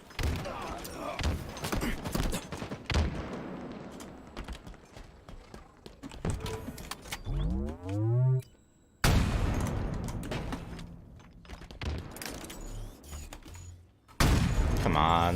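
Gunfire in a Halo multiplayer match, a capture-the-flag game: scattered sharp shots and bursts mixed with game effects and a swooping tone, with brief gaps and abrupt cuts, under occasional talk.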